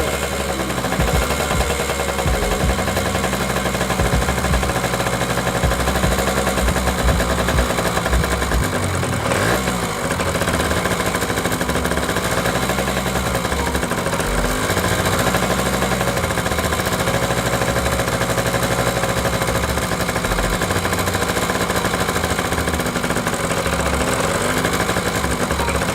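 Yamaha PW80 dirt bike engine running on the choke, a loud, continuous raspy two-stroke drone with steady rapid pulsing held close to the mic for the whole stretch, with no voices over it.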